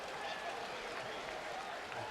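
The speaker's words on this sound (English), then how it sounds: "It is a great crowd. They're into it." Football stadium crowd at a 2008 South Carolina vs Kentucky game in Lexington, Kentucky, cheering and applauding in a steady, dense roar that fills the whole moment.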